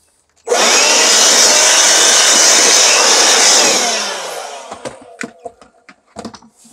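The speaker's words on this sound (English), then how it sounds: "I'll use the Milwaukee blower" A loud, steady roar from a Milwaukee cordless blower clearing debris for about four seconds, then it cuts off, followed by scattered ticks and rattles of debris settling.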